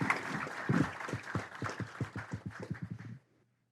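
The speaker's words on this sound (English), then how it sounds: "Can we give them a round of applause?" Applause from a city council meeting audience, with a rapid run of sharp claps that holds steady for about three seconds and then stops abruptly.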